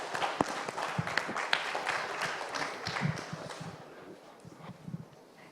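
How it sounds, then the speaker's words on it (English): Conference audience applause at INFOCOM 2022 after a talk by Devdutt Pattanaik, a crowd of hands clapping steadily and moderately near, then thinning out and fading toward the end. "Another huge round of applause, please, for Mr. Devdutt Pattanaik"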